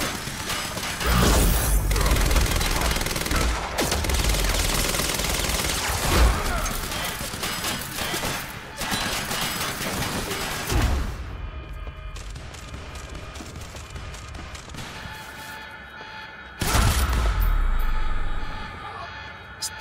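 Machine gun fire from an enemy machine gunner in the game Quantum Break, dense bursts of automatic gunfire and impacts running through most of the clip amid loud combat noise, with a heavy blast near the end.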